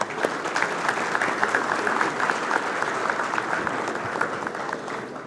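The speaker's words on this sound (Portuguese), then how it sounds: "Uma salva de palmas para o Dr." Steady, dense audience applause fills a room at an executive board meeting honoring Dr. Fábio. It stays even and moderately loud from start to finish, with no talk on top.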